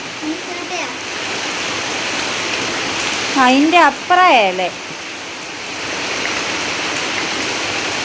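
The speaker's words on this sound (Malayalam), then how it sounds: "അത് മഴയാ" A steady hiss of rain falls on a misty hillside in Mundakkai, constant and broad, with a couple of brief voices and a short birdlike chirp breaking through midway.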